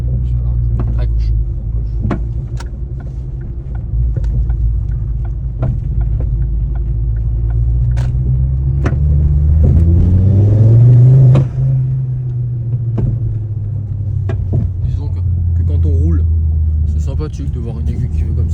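A Ford car engine idles with a low, steady rumble, then rises in a smooth rev as the turbo builds boost before settling back. Occasional clicks sit over it, and a voice talks in the cabin.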